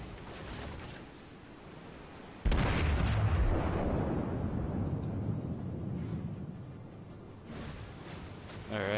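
Naval gun fire in the World of Warships video game: a loud, deep boom lands partway through and rumbles on under the game's continuous background sound, with a player speaking nearby.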